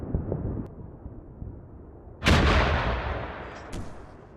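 Artillery fire mission in the Combat Mission war game: low distant rumble, then one heavy close explosion that booms and slowly decays, followed by a fainter secondary crack.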